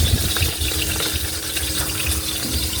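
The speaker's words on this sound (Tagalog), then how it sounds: "at hugasan muna natin ng suka bago timplahan" Water running and splashing steadily over fresh net-caught fish being rinsed with vinegar before seasoning, a continuous close gush like a tap filling a basin, with no talking.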